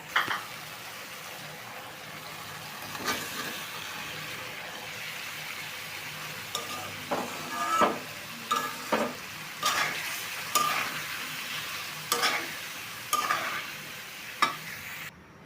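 Vegetables fry in a pan for a fish curry, a soft steady sizzle broken by repeated scraping knocks as a spoon stirs them, heard close and alone.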